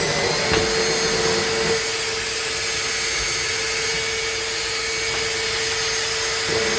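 Small G-Force cooling fans on an Arrma Kraton EXB 6S RC car, powered by a 1500 mAh 3-cell battery pack through the balance port. They give a steady, loud whirring hum with a sustained tonal whine, running unbroken and close without voices.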